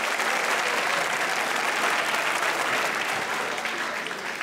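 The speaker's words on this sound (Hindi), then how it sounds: "नहीं, ताली होनी चाहिए सर के लिए।" A television studio audience on a talk show applauds, producing a full, steady wash of clapping that holds at a loud level and fades slightly toward the end.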